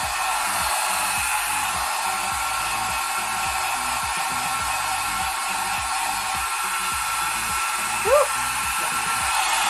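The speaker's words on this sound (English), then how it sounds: "And then pick up your dryer and just dry the section." A GoGo Mini hair dryer blows continuously on mid-length hair, a steady close whooshing hum with slight rhythmic fluctuations as it moves, heard alone apart from a brief squeak.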